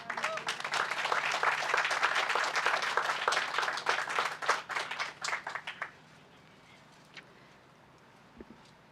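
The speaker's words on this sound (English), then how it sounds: "we want you to give them a big round of applause" Audience applause for staff members at a woodland groundbreaking ceremony, a dense outdoor round of clapping that holds for about six seconds, then thins and stops, leaving quiet with a couple of faint claps after.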